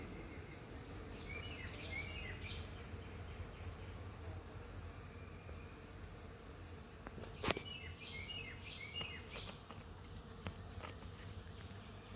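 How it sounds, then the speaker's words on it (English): Thousands of bees hum steadily around a flowering holly bush outdoors, a constant soft drone at low level with occasional birdsong and a brief sharp knock in the middle. "I have this holly bush and it's being pollinated by, I would say, thousands of bees right now."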